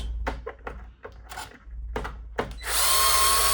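A power screwdriver unscrews the screws from the plastic case around the grinder of a Miele 6160/6360 coffee machine, in short bursts between handling clicks, then a loud, steady whir at close range.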